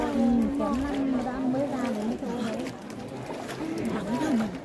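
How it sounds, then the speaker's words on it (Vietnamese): Flock of birds returning to the trees at Thung Nham, Ninh Bình, with cooing, warbling calls over a dense outdoor wash, heard close alongside people talking nearby. "Chim nó về kìa."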